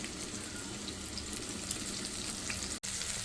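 Eggplant chapli kababs frying in a pan, a dense, even sizzle that holds steady and close, broken once by a brief silence near the end.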